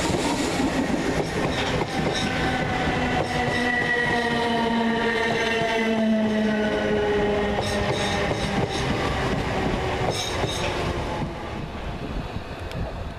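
South Western Railway Class 456 and 455 electric trains rumble steadily through Twickenham station, wheels and motors humming with rising and falling whine tones, occasional metallic clicks over the rails, no talk.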